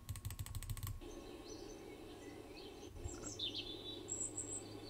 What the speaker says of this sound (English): You know, you hear birds,